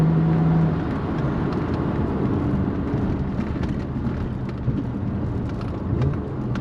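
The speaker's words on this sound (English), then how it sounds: "And that exhaust note." A BMW 325is exhaust burbles with a deep, steady low rumble, fairly loud and close, with slight swells in level and no talk over it.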